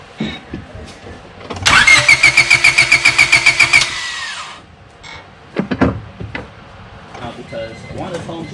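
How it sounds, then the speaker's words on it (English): A 1998 Honda Civic hatchback engine cranks with a rapid rhythmic chugging for about two seconds after a fuel filter replacement, then catches and settles into a running idle, with brief voices and clatter afterward. "Alright, now let's try to crank it."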